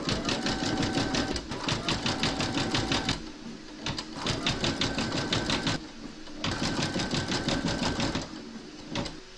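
An embroidery machine stitches with metallic thread, its fast mechanical needle clatter running in long continuous stretches broken by short pauses, close and steady.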